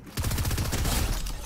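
Rapid automatic gunfire in the battle royale video game Fortnite, a dense, loud burst of repeated shots with a steady rattling rhythm that runs unbroken for over a second with no talking.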